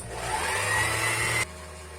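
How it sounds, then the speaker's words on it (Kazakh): A sewing machine runs with the pedal pressed to wind thread, a close steady motor whir with a humming drone that cuts off sharply after about a second and a half. "Тігін машинасы қосылып тұр. Осылай жіпті ұстап тұрып педальді басамыз."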